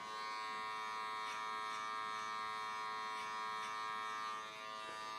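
Electric hair clippers buzz steadily through a home haircut, a close, continuous motor hum with faint shifts as the blades pass through hair, no speech.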